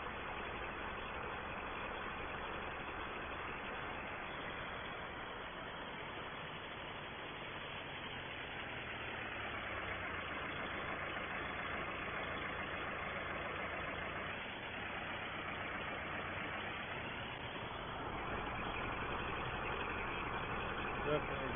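A 1964 Ford 5000 tractor engine idles steadily at a farm, a low continuous mechanical hum with slight shifts in tone, moderately close and fairly quiet.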